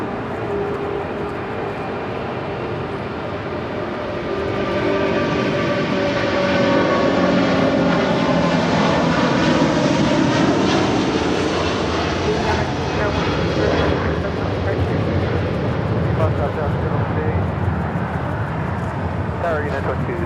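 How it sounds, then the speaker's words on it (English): An Asiana Airlines Airbus A380 takes off at LAX, its deep jet roar swelling after a few seconds into a loud, sustained rumble with shifting engine tones that slowly ease off. "This is Asiana Airlines Flight 201 Super taking off to Seoul on the A380."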